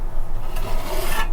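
A plastering trowel rasps across hardwall plaster in one continuous close scraping stroke with a gritty rubbing texture, and no talking.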